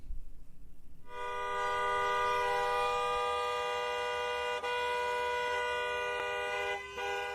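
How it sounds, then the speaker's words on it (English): A car horn blares in one long, continuous honk near law enforcement during an arrest, loud and steady for several seconds after a brief quieter start, with a couple of short dips near the end. "She just pulls up on enforcement and starts honking her horn"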